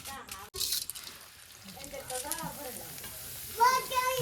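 Bhungala deep-fry in hot oil with a bubbling sizzle that swells and fades, while someone talks over it.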